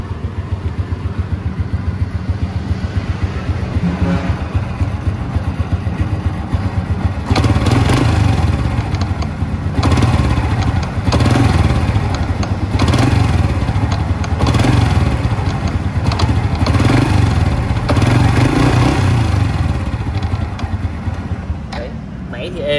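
A 2008 Honda Super Dream motorcycle engine runs steadily close by, growing louder and rougher partway through, with a voice talking over the engine noise.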